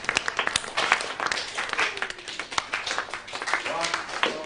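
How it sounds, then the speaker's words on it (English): A round of applause rises in a school setting from the drama Waterloo Road: dense, lively clapping from a group that lasts a few seconds and stays close and fairly loud. "Come on, everyone, round of applause."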